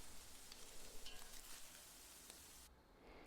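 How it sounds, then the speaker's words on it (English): Ground meat sizzles and fries steadily in a pan for a big-batch bolognese, a close, continuous crackle with faint stirring and no talk. "that is something we can do while frying it on the pan"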